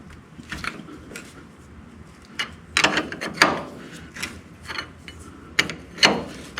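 Wrench work on a seized set screw of a grimy Minneapolis Moline R tractor starter: scattered metallic ratchet clicks and clanks, irregular and close, with a few louder bursts of mechanical clatter.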